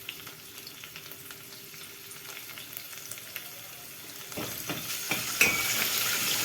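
Minced garlic fries in oil for a pasta sauce, giving a faint, steady sizzle that grows louder and busier near the end, with a few sharper crackles and stirring clicks.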